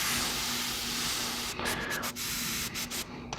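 An airbrush sprays thinned paint onto a BattleTech miniature, a steady close airy hiss broken into several short bursts and pauses near the end.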